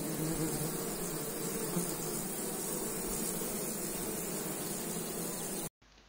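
Steady, dense buzzing from many honeybees at an apiary fills the air continuously, then cuts off abruptly near the end.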